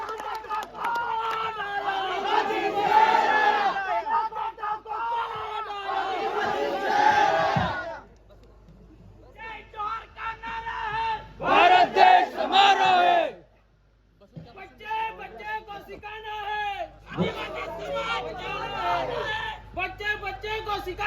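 A crowd at a political campaign rally in Molgi cheers and shouts in loud bursts separated by short lulls, with a speaker's amplified voice at moments.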